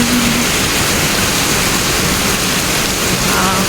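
Heavy rain pours down steadily in Singapore, a dense, unbroken hiss of water that stays loud and even from start to finish, with no voices.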